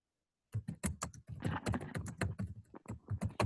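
Computer keyboard keys clatter in a quick, uneven run of close, crisp clicks and taps, continuing steadily without any talk over them.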